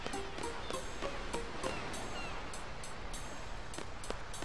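Train in the video game Final Fantasy VIII rumbling past, a steady low roar with rhythmic clacking of wheels on track joints and faint squeals, at moderate volume.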